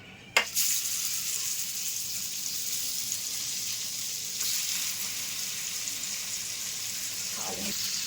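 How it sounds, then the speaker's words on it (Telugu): Paneer pieces fry in a pan with a continuous, even sizzle; a single sharp clatter opens as the pieces go in, with a faint scrape near the end and no talking. "ఇప్పుడు పన్నీర్ పీసెస్ వేసుకుందాం"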